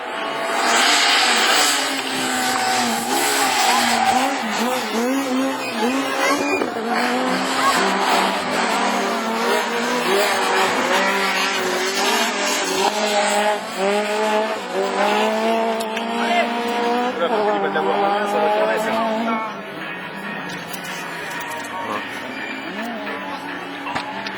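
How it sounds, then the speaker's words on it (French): Super 1600 rallycross race cars at a French championship round in Mayenne roar past with loud, rising and falling engine notes and gear changes, under continuous excited commentary. "Ce sont les premiers tours de route de la saison pour Max Bachelet"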